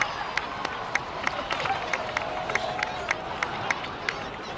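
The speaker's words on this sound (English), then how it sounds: "So, please give another round of applause for them." A crowd applauds in a Genshin Impact cutscene, with a dense clapping wash punctuated by regular sharp ticks and a faint tonal line beneath.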